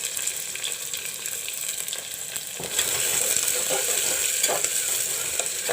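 Sliced onions fry in a pan with a steady, bright sizzle that grows louder partway through, with occasional stirring scrapes up close, heard alone.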